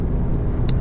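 Car driving at night on the way to the gym, a low steady road rumble close inside the cabin with a brief hiss near the end and no voices.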